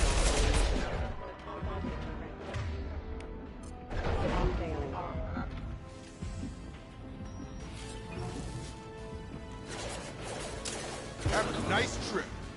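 Gunfire in the video game Mass Effect 2 in repeated bursts and crashes, with booming shots and impacts under a game character's voice calling out during the combat.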